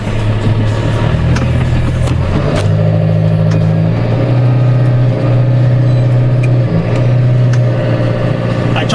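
A large farm tractor engine runs with a steady low rumble, muffled from inside the cab, while people talk over it.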